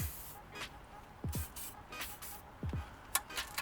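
Several short hissing bursts of an aerosol lubricant being sprayed onto exhaust nuts and bolts on a car, close and fairly quiet, in quick separate puffs.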